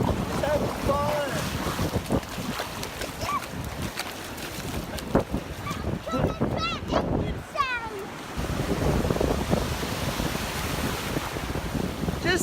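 Ocean waves and gusty wind at Ventura State Beach, California, a steady roar of surf with wind buffeting the microphone, while people talk and call out nearby.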